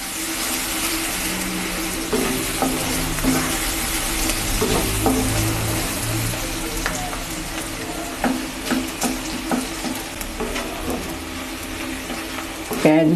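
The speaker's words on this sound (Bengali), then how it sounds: "পেঁয়াজটা ভাজা হয়ে আসলে পরপর মশলাগুলো দিয়ে দেব।" A generous batch of onions fries in a pan for duck egg curry, with a continuous close sizzle broken by repeated scraping and clinking as a spoon stirs them.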